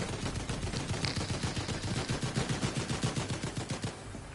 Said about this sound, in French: Purée, mais ils ont pas fini de tirer dans ce quartier.